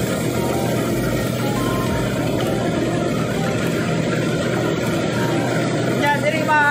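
A rice mill engine in Bohol, Philippines runs at a steady, loud drone that carries through the whole stretch without a break.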